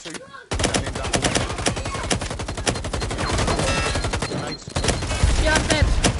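Rapid automatic gunfire in a tactical shooter video game, a long run of fast, loud shots with a brief pause before another burst, dense and continuous near the listener.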